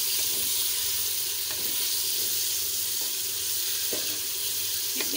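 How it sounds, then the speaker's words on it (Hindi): Chicken pieces sizzle loudly and continuously in a pan with fried garlic, a dense, close hiss with a few faint clinks of stirring near the end. "अब हम इसके अंदर चिकन शामिल करते हैं। चिकन शामिल करके इसको अच्छी तरह से मिक्स कर लें।"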